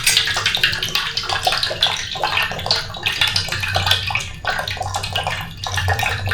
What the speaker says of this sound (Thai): เสียน้ำออกไปทีก่อนเนาะ